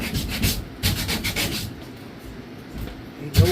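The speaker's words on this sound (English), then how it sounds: "I better sand that." Splintered wood is sanded by hand in a few rough, scratchy back-and-forth strokes, close up and fairly loud, with no voices over it.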